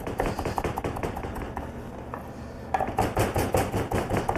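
Knife chopping vinaigrette ingredients finely on a cutting board, rapid rhythmic taps close by, pausing briefly midway before resuming in a quick steady run.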